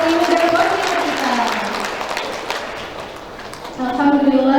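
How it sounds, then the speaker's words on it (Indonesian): An audience at a formal welcoming speech breaks into applause, a dense wash of clapping that fades out while a voice talks over it. "kita berikan tepuk tangan yang meriah untuk para kontinu dari kontinu kita"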